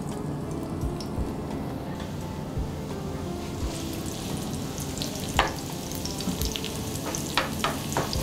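Chopped onions sizzle in hot oil on a tava, giving a steady, fairly quiet crackle with occasional sharper pops and stirring scrapes, with no voices.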